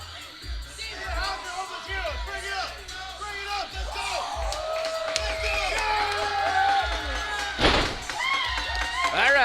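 Crowd cheering and whooping at a submission-only grappling event as a competitor enters the cage, with loud bellowing voices rising over a thumping rhythmic bass beat.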